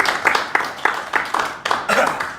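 An audience claps in a steady, fairly close rhythm of sharp hand claps, a smallish crowd applauding together at a talk event.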